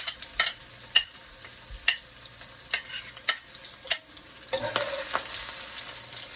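Onions, garlic and seasoning frying in a pan on a stovetop for a Jamaican steamed fish dish, a steady soft sizzle broken by repeated sharp scrapes and clicks of a spoon stirring, fairly near and alone.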